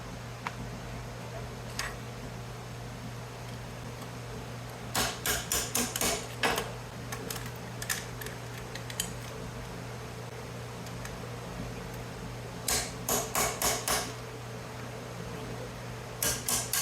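Quiet background hum with several short bursts of rapid metallic taps, like quick hammer strikes in clusters, separated by pauses, while breaking down scrap copper and breakers.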